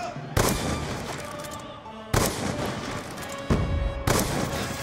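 Black Ops 2 gunfire: three heavy, booming bursts spaced a couple of seconds apart, each followed by a sustained roar of reverberating shots and game noise.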